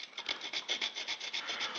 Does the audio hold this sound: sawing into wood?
yes